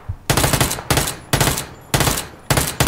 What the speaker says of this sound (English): And we started to fire.